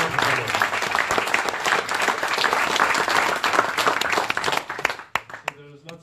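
An audience at a Brussels Online-Offline event bursts into dense applause that stays strong for several seconds, then thins to a few scattered claps before dying away.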